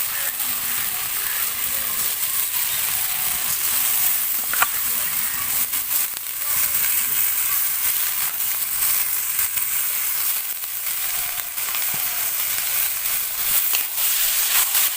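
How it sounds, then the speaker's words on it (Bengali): Masala sizzles in a pan as washed rice is tipped in for an egg and potato rice biryani, a continuous close hiss and crackle with scattered scraping and clicks throughout. "মশলাটা আমার এখানে খুব ভালোভাবে কষিয়ে নেওয়া হয়ে গিয়েছে। এরপরে দিয়ে দেব ধুয়ে রাখা চাল"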